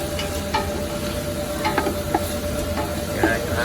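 Pork ribs sizzle in a pan while being stirred, a steady hiss of frying broken by soft scrapes and clicks of the utensil, close and with no talk.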